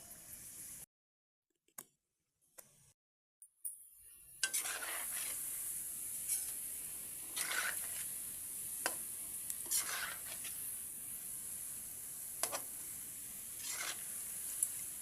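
Food sizzles and fries in a pan, a steady hiss with intermittent stirring clinks and pops; the first few seconds are near-silent with brief clicks before the frying starts.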